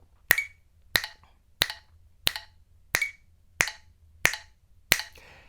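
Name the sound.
finger snapping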